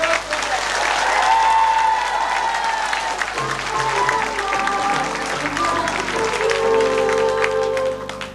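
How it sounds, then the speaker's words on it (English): Studio audience applauding at a quiz-show trophy presentation, steady clapping filling the whole stretch with music playing over it. "Give them a round of applause."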